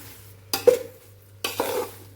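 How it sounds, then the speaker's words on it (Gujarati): Flour being stirred and roasted in ghee in a pan for adadiya. Two distinct scraping stir strokes about a second apart, each with a soft sizzle, are heard close up with no voices. "ગેસ ઉપર આપણે આ શેકી લેશું આ લોટને"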